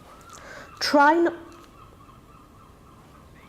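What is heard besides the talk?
seagull calling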